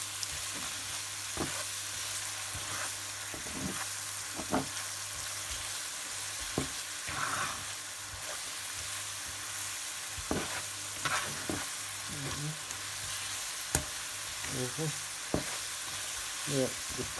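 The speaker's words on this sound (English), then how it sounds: "we want to caramelise these onions" Onions caramelising in a pan with a little sugar, a steady broadband sizzle running throughout while a spoon stirs them in scattered scrapes and clinks.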